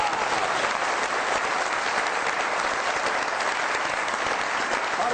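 A studio audience on the comedy show Mazaaq Raat claps loudly to welcome a guest, a dense, steady wall of applause that holds evenly for several seconds with no speech over it.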